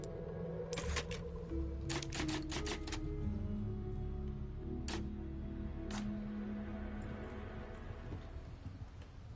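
Typewriter keys clacking at the save-point typewriter in Resident Evil 4 Remake: a quick run of sharp mechanical strikes, then a few isolated clicks, over soft sustained background music.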